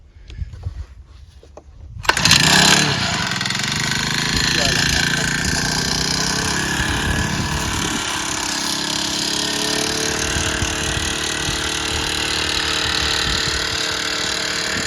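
A small crop-sprayer engine sputters, catches after a kick start, and settles into a steady loud drone that runs on continuously.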